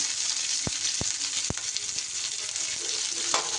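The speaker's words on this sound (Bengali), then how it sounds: "দিয়ে একটু নাড়াচাড়া করে হালকা করে ভাজা ভাজা করে নেব।" Garlic and four green chillies frying in hot oil, a steady bright sizzle running throughout with a few sharp spatula scrapes against the pan.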